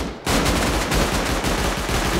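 Rapid gunfire in the Rust survival game, loud continuous automatic shots starting abruptly after a brief quiet moment and rattling on steadily, with no voices over it.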